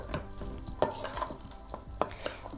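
A spoon stirring masala through an onion pakora mix in a bowl, scraping and clinking against the sides in a few uneven strokes, close up with no talking.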